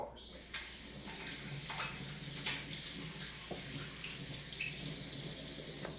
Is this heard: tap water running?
yes